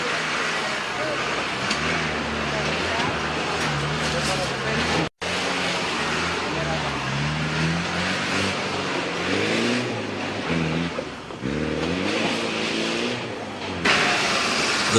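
A 1988 Camel Trophy Land Rover drives off-road in Sulawesi, its engine revving and labouring loudly and continuously, with a narrator speaking over it throughout.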